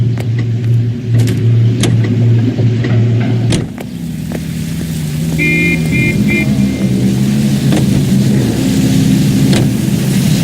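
A car engine in L.A. Noire hums steadily as the vehicle drives, a low, even drone that shifts in pitch midway and carries on at a constant level, with faint clicks and traffic sounds around it.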